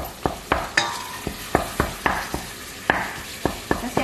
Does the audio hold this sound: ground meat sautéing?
yes